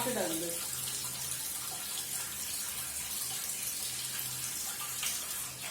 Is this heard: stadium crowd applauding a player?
no